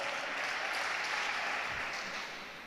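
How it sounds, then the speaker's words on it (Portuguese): A church congregation claps during an evangelical sermon, broad continuous hand-clapping that holds steady and then fades in the final moments, heard without voices over it. "glorifica o Senhor com suas palmas"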